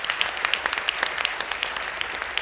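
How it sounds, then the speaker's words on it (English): Audience applause at a senior subject selection information evening in a school hall, a thin patter of scattered claps that stays fairly quiet and even throughout. "We might give these boys a round of applause."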